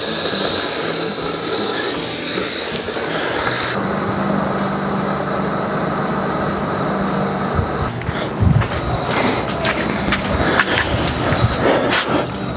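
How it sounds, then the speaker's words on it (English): Air rushes steadily out of a 4x4 tyre through a deflator, a loud continuous hiss that shifts partway through and is joined by broadband noise and rattling near the end. "let's let some air out of the tyre."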